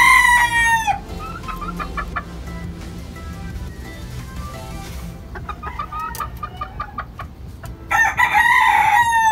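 Chickens cluck and crow in a backyard coop, with a rooster's loud calls opening and closing the stretch and steady clucking in between.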